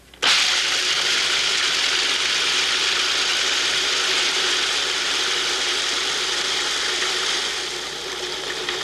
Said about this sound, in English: The first thing you'll see are chopped peanuts. It makes a racket, but it won't hurt the durable Lexan work bowl.